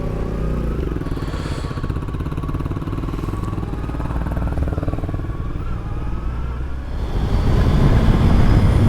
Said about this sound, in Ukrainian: На мотоциклі, друзі, кататись, якщо ви не знаєте, дуже класно.